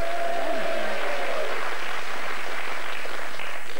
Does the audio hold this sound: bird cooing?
no